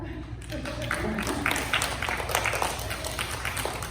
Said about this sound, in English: Stand up and give them applause for what they do.